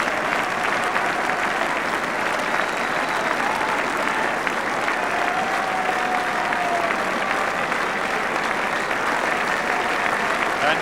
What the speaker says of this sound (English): And Coventry sportingly clapping the London Scottish side.